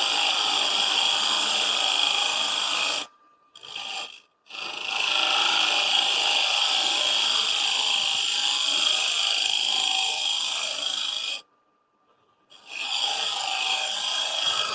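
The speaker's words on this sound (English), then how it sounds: "I'm actually shaping the bowl with this tool." A turning tool shear-scrapes a face-grain wooden bowl spinning on a lathe, giving a steady, loud rasping hiss that cuts out twice as the tool lifts off, then resumes.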